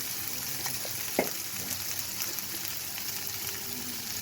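Ground turmeric and other spices sizzle steadily in hot oil in a pan, with a faint continuous fry, a few soft pops and one brief clink.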